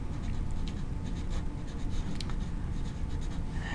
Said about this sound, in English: you're going to write your name